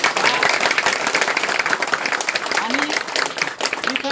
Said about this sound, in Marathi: तुम्ही सगळ्यांनी जोरदार टाळ्या वाजून